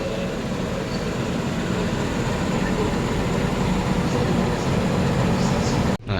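Steady, loud rumble and rattle inside a Gumarang passenger train travelling through Indonesia, a continuous rolling roar with faint squeaks, ending with a brief drop near the end.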